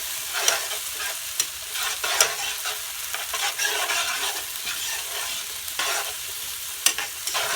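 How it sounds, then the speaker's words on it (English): Minced garlic sizzles and fries in a pan for a rice dish, with repeated sharp scrapes of stirring over a continuous crackling hiss, close and clear, and no voices. "So I'm going to stir that around a little bit."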